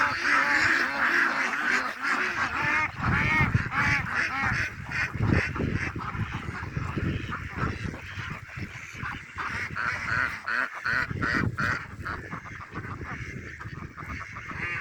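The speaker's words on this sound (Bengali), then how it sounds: "আমি এখন মরুভূমিতে হাঁস পালি।" A flock of ducks on a desert farm quacks and honks loudly up close in a busy, overlapping chorus of nasal calls that continues without pause.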